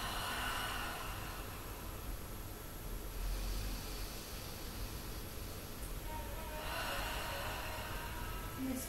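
Slow deep breathing during a relaxation exercise, two long soft breaths of air drawn in and let out, faint against a steady hiss.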